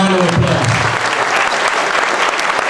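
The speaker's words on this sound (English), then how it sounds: "Let's give them a big round of applause." Birthday party guests giving a big round of applause to a dance sport team from Cebu City, loud sustained clapping that swells in after a voice trails off at the start.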